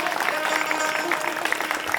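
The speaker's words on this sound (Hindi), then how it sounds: "एक बार शिव पुराण के लिए जोरदार ताली बजाइए" Crowd applause rising at a Shiv Mahapuran religious discourse gathering in Dhuma, Seoni, Madhya Pradesh, a dense, steady wash of many hands clapping across the whole stretch with some voices mixed in.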